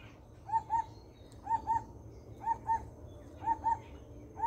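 Repeated paired bird calls at Chintamani Kar Bird Sanctuary, four evenly spaced double notes about a second apart, fairly clear over a low background hum.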